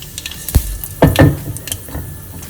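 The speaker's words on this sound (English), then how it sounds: "adding in a teaspoon of urad dal, half teaspoon of cumin seeds, pinch of fenugreek seeds, dried chillies." Urad dal, cumin, fenugreek seeds and dried chillies hit hot oil in a pan for sambar rice, producing a close, loud crackling sizzle with a couple of strong bursts and metallic clinks.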